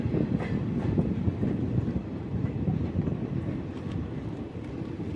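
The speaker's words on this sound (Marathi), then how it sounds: "या ठिकाणी आपल्याला बघा गाडी जाताना दिसते" A train rumbles steadily past through the Kasara Ghat mountain pass, a dense low roar with faint rhythmic clacking and wind buffeting the microphone, continuous and fairly close.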